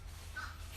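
A single short caw from crows nesting in a tree behind a house sounds faintly in the distance over a steady low hum.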